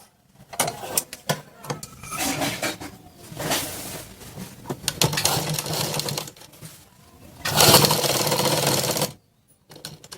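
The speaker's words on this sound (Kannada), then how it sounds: "ಪದೇ ಪದೇ ದಾರ ಕಟ್ಟಾಗುತ್ತಿದೆ" A domestic sewing machine running in bursts of stitching, with short mechanical clatters and pauses as the thread keeps breaking; a longer loud run near the end stops abruptly, close and with no talk.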